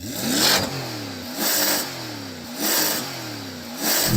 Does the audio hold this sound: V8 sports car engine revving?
yes